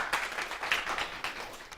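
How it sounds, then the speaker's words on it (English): An audience applauds at a spiritualist medium demonstration weekend, a short burst of steady, broadband clapping heard close with a fairly even rhythm and no voice over it. "Let's give her a big round of applause."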